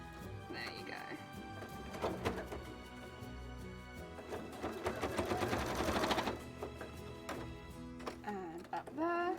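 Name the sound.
sewing machine top stitching fabric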